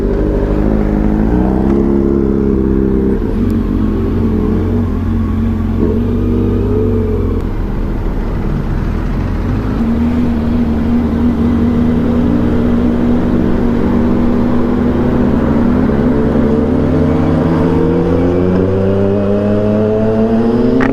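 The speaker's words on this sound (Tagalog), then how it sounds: "Ang lakas ng exhaust ni Moto Juicy." A Kawasaki Z900 motorcycle, a 2025 Z900SE, revs its loud exhaust in a steady drone that rises and climbs in pitch toward the end, close and alone with no talk.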